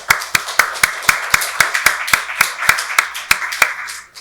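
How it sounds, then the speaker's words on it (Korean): A church congregation at a Sunday Christmas worship service claps in unison to a steady beat, about fifteen sharp, evenly spaced claps before stopping. "박수로 하나님께 영광 돌리겠습니다"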